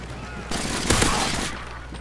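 Call of Duty Modern Warfare 3 gunfire, a short burst of rapid automatic shots in the middle of a noisy background, loud and close, lasting about a second.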